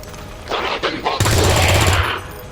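A gunshot in the turn-based strategy game XCOM Long War of the Chosen: a few short bursts, then a loud sustained volley of automatic fire that cuts off sharply, with no talk over it.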